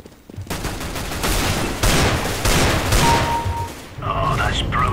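Video game gunfire with Desert Eagle shots: a dense, loud burst of rapid, overlapping gunshots and booms that runs continuously, then a brief quieter stretch with a tonal game sound near the end.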